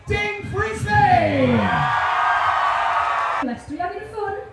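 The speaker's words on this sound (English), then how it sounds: "Scream, go wild as we welcome to the stage, Ding Frisley!" At Leicester Pride 2021 a large outdoor crowd screams and cheers loudly and continuously for about two seconds, following a shouting announcer's voice, before another voice speaks again.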